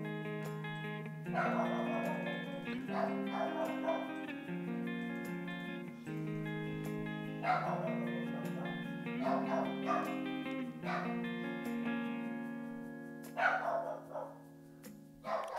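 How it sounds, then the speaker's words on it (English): A pet dog barks repeatedly, with yips and whimpering woofs in close, insistent bursts over a sustained tonal musical background. "That's my dog, everyone."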